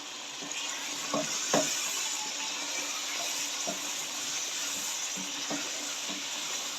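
Tomatoes and spices fry in a pan for a chicken and green beans dish, a steady soft sizzle with occasional light stirring taps and scrapes.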